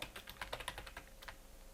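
Quick, light keystrokes patter on a computer keyboard while a formula is entered in an Excel spreadsheet, a short irregular burst of clicks heard up close and alone.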